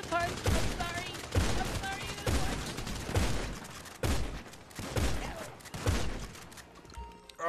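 Shotgun blasts in the GTA 5 video game boom out one after another at a steady pace of roughly two per second, each loud report decaying before the next, while a voice talks faintly underneath.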